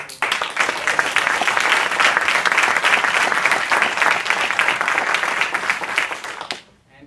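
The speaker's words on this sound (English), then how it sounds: "So a round of applause for people." A crowd at a Toastmasters speech event at SDSU breaks into loud, full applause that holds steady for several seconds before cutting off abruptly at the end.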